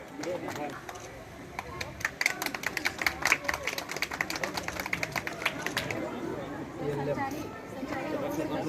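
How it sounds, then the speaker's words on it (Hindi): Audience clapping at a children's festival event in Mirzapur, heard as a burst of sharp claps from about two to six seconds amid crowd chatter, fading back into murmuring voices. "तालियां बजती रहे।"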